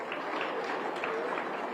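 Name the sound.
applause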